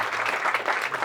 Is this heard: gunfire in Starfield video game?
no